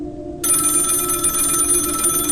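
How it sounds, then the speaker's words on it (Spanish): A telephone bell suddenly begins ringing and keeps up a loud, steady, continuous ring close by after a brief quiet moment. "A los pocos minutos el teléfono empezó a timbrar."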